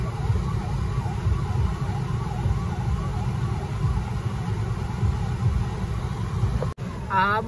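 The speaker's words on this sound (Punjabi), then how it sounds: "ਬੱਸ ਆ ਨਾ ਅੱਗੇ ਖੜੀ ਆ ਜਾ ਰਹੀ ਆ ਐਂਬੂਲੈਂਸ, ਉਹ ਗਈ ਨਿਕਲ ਗਈ ਸਾਈਡ ਤੋਂ।" An ambulance siren wails through heavy traffic, its rising and falling tone riding over a constant engine rumble, with a sudden break and a sharper sweep near the end.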